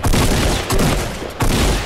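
Heavy gunfire from a Fortnite match, three loud, close bursts spaced about every two-thirds of a second with dense crackling between them.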